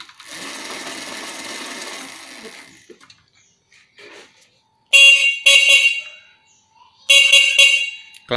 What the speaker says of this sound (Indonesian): klakson juga hidup aktif